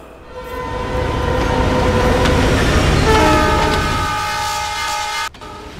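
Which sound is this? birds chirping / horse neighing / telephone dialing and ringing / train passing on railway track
train passing on railway track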